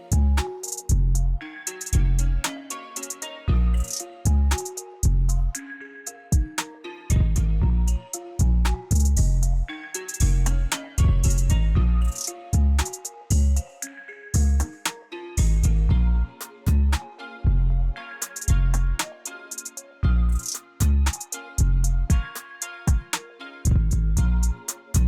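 Verse section of a trap beat built in FL Studio, with punchy deep 808 hits and crisp drums looping over a melodic line, loud and rhythmic with brief gaps.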